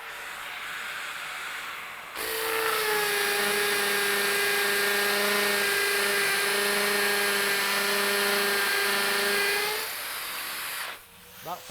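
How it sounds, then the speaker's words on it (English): A Makita drill in hammer action at speed 2 spins up and holds a loud, steady high whine with a fast rattling hammer pulse for about eight seconds, then winds down to quiet, heard close and without talk. "Going to use the Makita drill, hammer action, speed 2 setting straight away."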